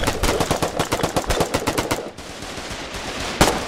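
Rapid bursts of machine gun fire from the video game Foxhole, a fast stuttering rattle for about two seconds, then a lull of background noise and one more sharp shot near the end.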